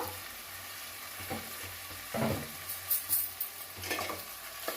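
Fenugreek leaves with moong dal and potato cook in a pan, giving a soft, steady sizzle broken by a few quiet stirring scrapes.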